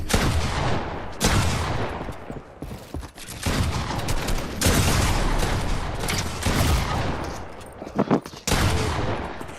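Heavy video-game gunfire in an online shooter comes in dense automatic bursts and booming volleys, separated by short gaps and sharp cut-offs, loud and close throughout.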